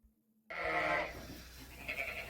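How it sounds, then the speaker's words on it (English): Sheep on a farm let out a single loud, close bleat after a brief silence, followed by a softer second call as the sound trails off. "I'm just after bedding the sheep there now."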